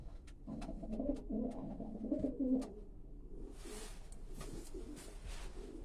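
Racing pigeons coo in a low, throaty rolling murmur near at hand, with repeated coos over a steady background of bird noise and a few sharp clicks or taps.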